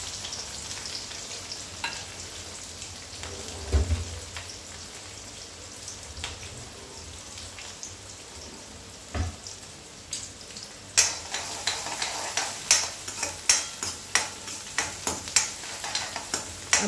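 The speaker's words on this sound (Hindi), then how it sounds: "अब इसे अच्छी तरह से भुने देते हैं।" Onion, garlic and dried red chili frying in a pan, a quiet continuous sizzle broken by stirring scrapes and clatters that grow more frequent and louder in the second half.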